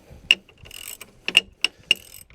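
Wrench ratcheting on the nut of a worn front stabilizer link, four or five sharp metallic clicks in an uneven rhythm, close and moderately loud, with faint shuffling in between.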